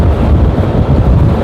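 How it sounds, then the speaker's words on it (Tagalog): Strong wind buffets the microphone with a loud, constant low roar throughout. "Malakas yung hangin."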